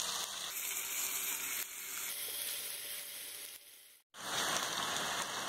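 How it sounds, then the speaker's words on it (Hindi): Onion, dal and spinach frying over a medium flame, giving a steady close sizzle with faint clinks, briefly dropping away near the end before resuming. "इसे मीडियम फ्लेम पे प्याज का कलर चेंज होने तक फ्राई करेंगे"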